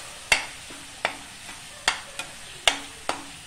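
A spoon scrapes and stirs spice masala in a pan, six sharp, close strokes at an uneven rhythm with a faint sizzle between them and no talking.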